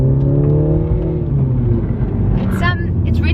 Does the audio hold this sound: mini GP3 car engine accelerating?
yes